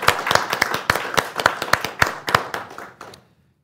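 A small audience in a conference room gives brief applause. Its sparse, distinct hand claps ring out close by, thin out and fade to silence within a few seconds.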